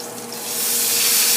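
Tuna hits a hot pan with a rising, steady sizzle of searing sesame oil, hissing and crackling loudly with no talk.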